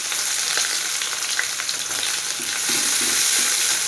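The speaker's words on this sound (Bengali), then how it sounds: "এবার আমি দিয়ে দেবো পেঁয়াজ কুচি" Chopped onion dropped into hot oil with a cinnamon tempering while cooking chickpea ghugni, a loud steady sizzle that swells a little later on, with no speech.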